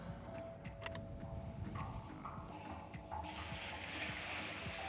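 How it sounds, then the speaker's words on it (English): Water is poured into a bucket for mixing a batch of brick mortar, a fairly quiet splashing and trickling with scattered knocks, the pour rising into a fuller rush near the end. "First step, we're going to add the water."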